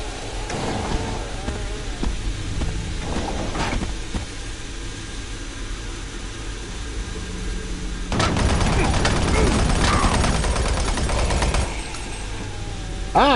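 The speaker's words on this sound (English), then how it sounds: "Ah, chain gun." Chain gun firing in Doom 3, a dense rattling burst of rapid gunfire that swells loud for several seconds amid other game noise and a voice, after quieter scattered shots.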